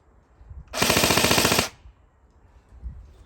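A PTS ZEV Elite carbine airsoft electric gun, powered by a 7.4 V 1300 mAh LiPo battery, fires BBs in one loud, close, rapid full-auto burst lasting just under a second, with quiet before and after.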